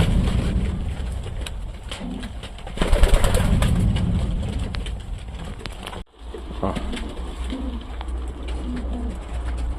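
Pigeons being shown for sale coo repeatedly from close by over a busy, rumbling background, the soft coos coming in short bursts and briefly cut by a gap near the middle.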